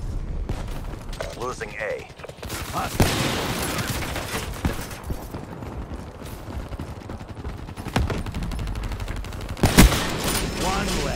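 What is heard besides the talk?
Hellstorm missile strike explosions in a video game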